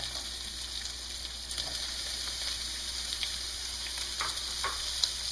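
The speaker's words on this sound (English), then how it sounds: "And now we're going to stir in the vegetables and the onion." Vegetables and onion get stirred into browned chicken in a hot pan, giving a steady bright sizzle with occasional crackles and spoon scrapes, close and unaccompanied by speech.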